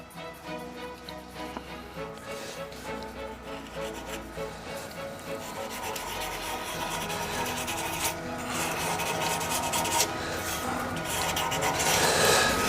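Abrasive grit rubbing back and forth over a fluted wooden shaving brush handle, a steady close rasping scrape that grows slightly louder toward the end, with no talking.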